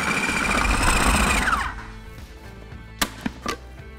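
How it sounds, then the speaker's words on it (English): A food processor whirs loudly as it blends an almond butter caramel mixture, then winds down and stops after about a second and a half, followed by a few sharp clicks and knocks. "we're going to whiz this up in the food processor until it becomes like a nice gooey texture"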